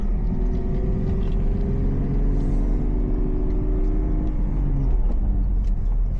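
A manual transmission car drives with a loud, steady engine hum and road rumble heard from inside. The engine tone climbs slowly, then drops around the four-second mark as if a gear change occurs.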